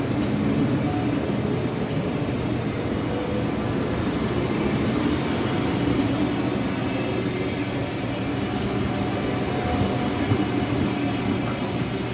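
Trains at Hagen main station, including ICE services, produce a steady rumbling, rolling drone that fills the platform continuously at a moderate level, with no speech.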